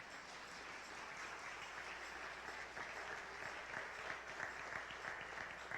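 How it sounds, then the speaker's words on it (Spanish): Church congregation in San Juan, Puerto Rico clapping together, a steady wash of many hands sustained throughout, fairly distant and even in level. "dense un aplauso ustedes ahí."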